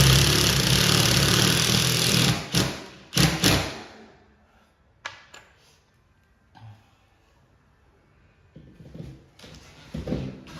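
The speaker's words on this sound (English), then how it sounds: "I like to use a DeWalt Impact brushless." DeWalt brushless impact driver with a 5-amp battery driving two screws into a ceiling fan bracket during a Fanimation fan install, a loud sustained motor whir for about two seconds, then brief bursts and clunks before quieter handling sounds.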